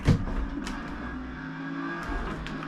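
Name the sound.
80s Lamborghini engine revving in Forza Motorsport video game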